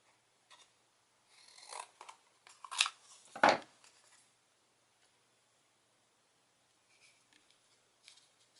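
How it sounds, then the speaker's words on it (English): Scissors trimming cardstock for a stamped card basket, a few crisp snips and rustles close by, with quiet handling noises at the end. "I'm going to trim it just a little bit more."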